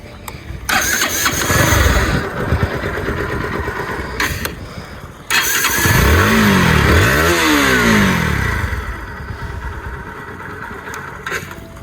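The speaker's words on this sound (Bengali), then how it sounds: "গাড়িটা একবার স্টার্ট দিয়ে দেখানো উচিত।" A Bajaj Pulsar NS160 ABS motorcycle is started twice: a short first crank and burble, a pause, then a second start with throttle blips that rise and fall before settling into a steady, close idle.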